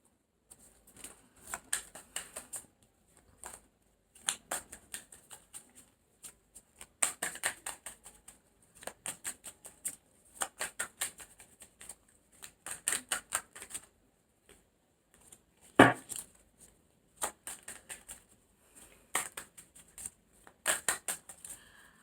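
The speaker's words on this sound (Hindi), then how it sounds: "जब तक मैं आप लोगों के लिए शफल करती हूँ कार्ड्स को" Tarot cards are shuffled in repeated bursts of rapid riffling and snapping, each flurry brief and crisp with short pauses between, close and fairly quiet.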